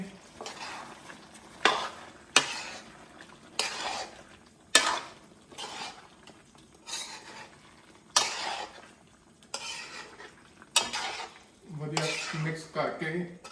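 Tomatoes are stirred into a desi-style Punjabi chicken curry in a pan: a dozen or so loud, irregular spoon scrapes and metallic clanks against the pan over a faint underlying sizzle.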